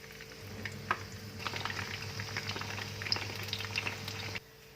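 Chicken manchurian balls deep-fry in hot oil, giving a close, steady sizzle with scattered small pops and crackles that stops abruptly near the end.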